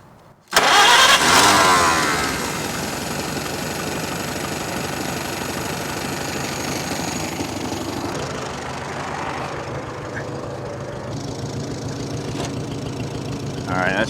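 A 1945 Farmall H tractor engine cranks and catches with a sudden loud burst, then settles into a steady, close, rumbling idle that runs on for many seconds, slightly dipping near the end.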